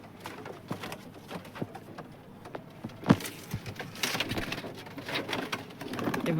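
Pigeons in a loft coo softly in short repeated calls, close by, mixed with sharp clicks and rustling handling noises that grow busier toward the end.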